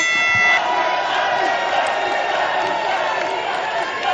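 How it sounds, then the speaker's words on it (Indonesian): Supporters of candidate pair number 2 applaud and cheer at a Central Java governor candidates' debate, a dense, loud wash of crowd noise that holds steady for the whole stretch. "Kepada pendukung paslon nomor urut 2, boleh tepuk tangannya"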